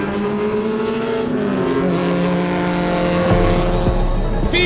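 Touring race cars heading into turn 1, loud engines revving and shifting close by as the field accelerates together, with the pitch of the engines rising and dropping between gear changes.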